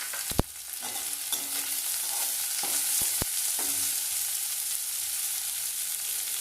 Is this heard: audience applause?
no